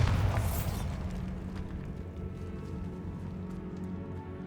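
A blasting spell goes off in Hogwarts Legacy: a single loud boom at the start that rolls into a long, fading rumble of settling debris, with no voices.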